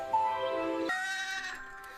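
A single short, wavering bleat from a goat, sounding nearby and fairly soft over a low background.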